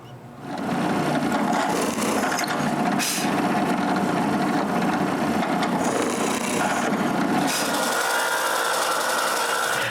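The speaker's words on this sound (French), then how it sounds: "pour les retenir ensemble, là, je dois leur percer un trou à chaque coin." A drill bores holes into the corners of small wooden cryptex pieces, giving a steady, close grinding whir through wood that runs continuously for about ten seconds with brief shifts in pitch and no talking.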